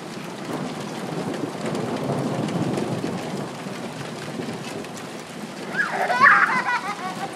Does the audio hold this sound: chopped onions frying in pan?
no